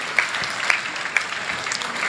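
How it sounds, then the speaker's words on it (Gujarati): Audience applause for donors at a children's values camp, a continuous patter of many hands clapping with a few sharper claps standing out, a voice faintly beneath. "તાળીઓના ગડગડાટથી આપણે તમામ દાતાઓને બિરદાવીશું મિત્રો"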